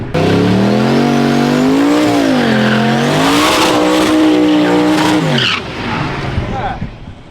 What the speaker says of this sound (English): Said he's gonna do a little bit hotter burnout.